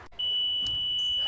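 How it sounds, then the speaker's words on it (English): A basketball arena buzzer marks the end of a quarter with one loud, steady electronic tone that starts abruptly after a short thump and holds to the end, alone with no talk. "At the buzzer."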